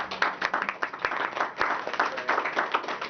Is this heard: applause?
yes